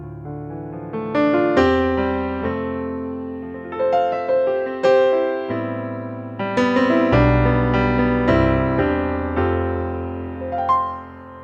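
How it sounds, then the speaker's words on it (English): Yamaha CF series grand piano sound played on a Hammond SK Pro keyboard, rich chords and melodic runs with sustained low notes ringing out, clean and close with no talking. "it's the sound of the Yamaha CF series grand piano"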